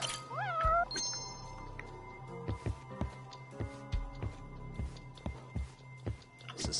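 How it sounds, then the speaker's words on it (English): Cat meowing in the video game Judgment, near a stairway: a couple of close, rising meows at the start, followed by soft footsteps and scattered thuds, with no talking. "I knew I heard a cat."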